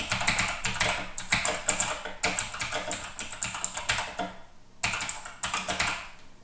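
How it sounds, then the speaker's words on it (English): Fast typing on a computer keyboard, with dense bursts of close, crisp key clicks broken by brief pauses, and no talking. "if I type and make mistakes"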